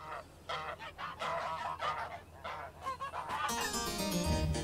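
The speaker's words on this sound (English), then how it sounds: "it might be nice to take a couple of our geese to market" Geese on a Tudor farm honk repeatedly at close range in a loud, overlapping chorus of nasal calls that grows denser toward the end.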